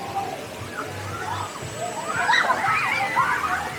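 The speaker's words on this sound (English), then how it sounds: "here's one of the splash pads for some of the kids." Water splashing and sloshing at a kids' splash pad in the Hersheypark water park, a steady outdoor wash of spraying water with a thin high tone and distant crowd noise.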